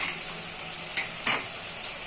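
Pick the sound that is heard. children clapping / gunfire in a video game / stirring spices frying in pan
stirring spices frying in pan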